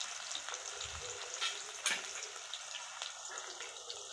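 Cumin seeds sizzling in hot oil with green chilies, a bright crackling hiss that holds steady, with a few louder spits and stirring scrapes, no voices over it.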